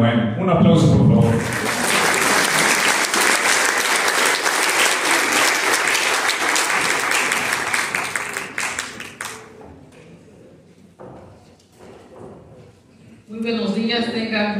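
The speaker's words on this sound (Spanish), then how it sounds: "recibamos con un muy fuerte aplauso" An audience at an election statistics presentation breaks into loud, sustained applause that fades out, with speech before it and after it.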